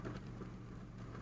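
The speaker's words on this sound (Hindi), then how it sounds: "बारिश हो रही है इस समय।" Heavy rain falls steadily in Kotdwar, a dense continuous patter with a low rumble beneath it, fairly faint and with no talk.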